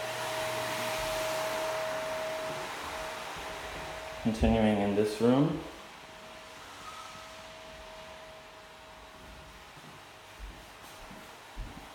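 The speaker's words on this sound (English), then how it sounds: "You'll hear some background noise. That's the painters cleaning their equipment." Painters clean their equipment in the background of a newly painted house, making a steady vacuum-like whirring drone that runs throughout, with a brief stretch of speech over it.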